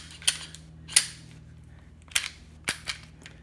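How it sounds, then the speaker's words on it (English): A Glock 26 subcompact pistol is handled to clear the chamber, giving several sharp metallic clicks and clacks spread over a few seconds, close and crisp in a quiet room, with no speech. "Clear the chamber."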